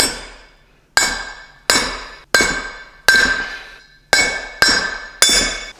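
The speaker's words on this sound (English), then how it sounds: "you want to find something that's slightly bigger than the diameter of it so that you're pushing down on the outer seat of the bearing. And we'll just try to tap it in." Metal tool taps a bearing into a Mazda Miata flywheel, eight sharp ringing strikes spaced irregularly, each with a bright metallic clink that decays before the next, close and loud with no talking.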